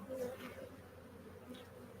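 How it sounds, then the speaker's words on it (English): Honeybees buzz close by during a honey harvest, with a steady droning hum and a few louder passes near the start. "Bees galore at the Spotlight store."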